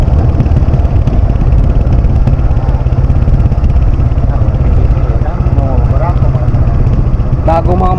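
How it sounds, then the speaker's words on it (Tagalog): New motorcycle engines run loudly and continuously in busy Novaliches street traffic, with clattering and idling, while a voice talks over the noise. "Bagong mga motor yun."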